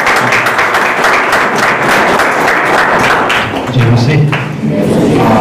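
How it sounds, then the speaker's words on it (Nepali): A church congregation at a Saturday service breaks into loud, sustained applause for the pastor, a steady dense wash of clapping with voices mixed in. "हुन्छ पास्टर बुवालाई जोरदार ताली बजाएर"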